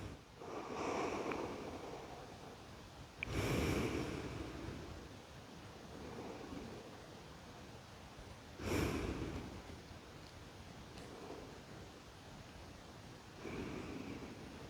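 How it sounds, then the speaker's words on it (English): Deep yoga breathing rises and falls, slow breathy inhales and exhales surging every few seconds as soft, close, rushing air with no talk. "Take a few inhales and exhales here."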